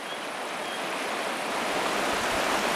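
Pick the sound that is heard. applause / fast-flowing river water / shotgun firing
fast-flowing river water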